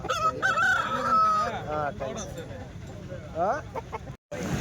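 A rooster crows close by with a long drawn-out call at a weekly country-chicken market in Kadiri, while people talk over it in the background.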